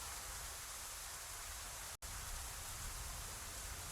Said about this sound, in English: Oh, rain. Oh, great. Yep, rain, snow,